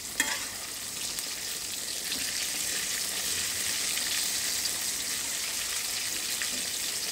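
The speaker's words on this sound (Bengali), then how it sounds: "এটাকে ডুবো তেলে ভেজে নিচ্ছি আমি" Eggplant slices deep fry in oil over medium heat, producing a steady, close hissing sizzle with occasional faint pops throughout.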